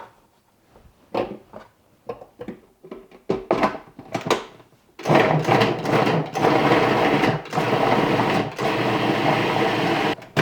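An electric chopper minces garlic for freezing: short, choppy bursts of whirring motor pulses give way to a longer, continuous buzzing run, close and fairly loud, with brief stops between spins.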